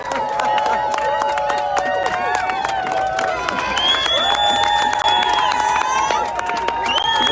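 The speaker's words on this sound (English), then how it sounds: "So I want to hear a big, long New York round of applause for every single organizer." A New York rally crowd claps and cheers for organizers, a continuous roar of whoops, shouts and whistles layered over applause, loud and sustained throughout.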